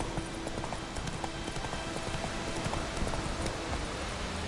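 Horse galloping in The Witcher 3, a steady rapid clip-clop of hooves on ground, fairly close and moderately loud, continuing without a break and heard alone.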